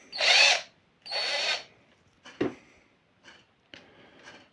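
A Chinese-made DeWALT cordless screwdriver, a two-mode model without hammer, runs in two loud bursts of about a second each, followed by fainter short whirs and clicks, heard alone.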